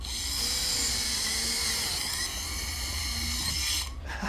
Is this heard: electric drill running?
yes